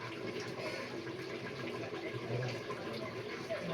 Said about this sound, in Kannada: ಸ್ವಲ್ಪ ಕುದೀತಾ ಇದೆ, ಸ್ವಲ್ಪ ಒಂದು 5 ನಿಮಿಷ.